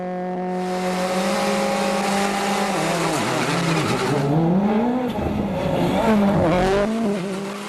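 A Ford WRC rally car accelerates hard on a tarmac stage at the 2012 WRC Germany, its engine revving up through gears with sharp pitch drops at shifts, loud and close.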